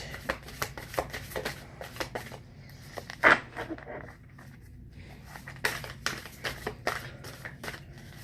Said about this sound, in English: I'm shuffling the 7 energies cards, so we'll see what the energy for this reading is.